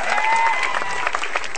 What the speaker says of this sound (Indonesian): Ya, tepuk tangan sekali lagi buat Semi Not a Slim Boy.